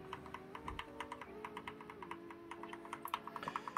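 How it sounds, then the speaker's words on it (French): Rapid, repeated taps on the Delete key of a PC keyboard while booting into the BIOS, a quick irregular string of light clicks, close and fairly quiet, with a low hum underneath. "Je spamme toujours Supr pour aller dans le BIOS."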